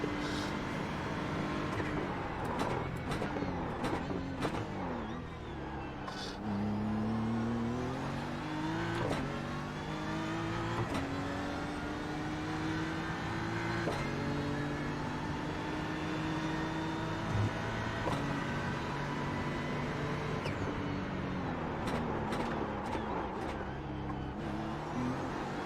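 A race car lapping Sebring in iRacing, engine roaring continuously and up close, pitch climbing through gears with sharp shift breaks and brief lifts, running on its own with no voices over it.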